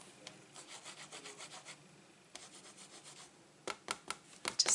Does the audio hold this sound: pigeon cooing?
no